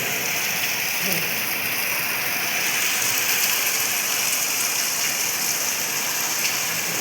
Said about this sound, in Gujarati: અત્યારે જો વરસાદ ચાલુ થઈ ગયો જો ધોધમાર વરસાદ છે